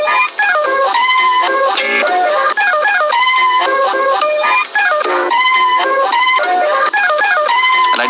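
A lo-fi hip-hop groove built from MPC-style chopped samples plays loud and steady, with layered tonal stabs and a repeating rhythmic pattern that briefly drops out a few times.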